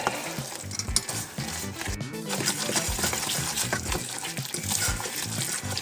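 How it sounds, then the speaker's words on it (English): Butter toffee mixture for popcorn bubbles in a pot with a soft, continuous sizzling and popping, fairly quiet and without talk. "Boiling stuff looks cool, doesn't it?"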